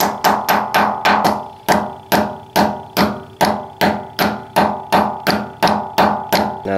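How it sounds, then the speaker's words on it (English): Aluminum bushings being hammered into a car's engine bay ring out as a rapid, regular series of sharp metallic hammer blows, loud and close, about two strikes per second, with no talk. "let's probably have to hammer these in"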